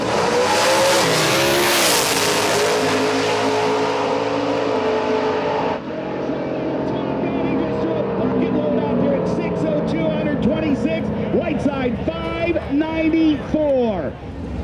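Drag radial cars in the Xtreme 275 and Ultimate Street classes roar off the line and accelerate down the drag strip, engine noise loud and sustained, then fading under an announcer's commentary.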